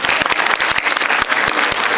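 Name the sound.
applause from audience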